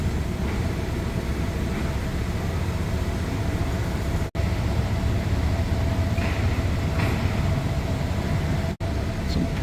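A train rumbles steadily as it pulls away from Hua Lamphong station in Bangkok, a continuous broad rolling noise with faint rattling, fairly close and uninterrupted.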